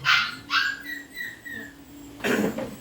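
A puppy gives a few short, high yipping barks, close and fairly loud, with pauses between them; a voice is faintly present.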